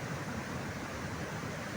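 A large waterfall roars as a steady, dense rush of falling water, unbroken and even throughout the short stretch, with no voices over it.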